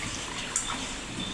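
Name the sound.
rinsing rice in water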